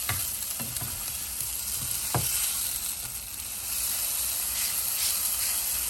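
An omelette sauté mixture cooks in a pan with a continuous sizzle and hiss, broken early on by a few sharp knocks and scrapes of stirring, then settling into a steady frying sound.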